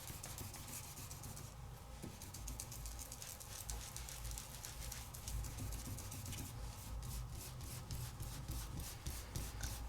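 Luster wax is rubbed by hand across a craft surface, making a steady, close, dry scrubbing and rasping texture that keeps going without a break for the whole stretch, with no voices.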